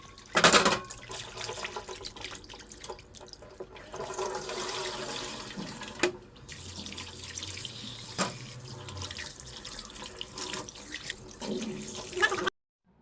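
Fish are rinsed clean under a running kitchen tap, with water splashing steadily into a sink for a long stretch, punctuated by occasional clunks and louder gushes.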